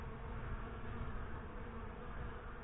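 A dense, steady buzz from honey bees flying close around a hive entrance, continuous and fairly faint with no voices.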